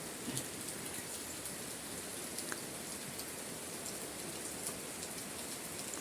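Steady rain falls continuously, a soft even hiss of drops on surfaces with no breaks, moderately faint and without voices.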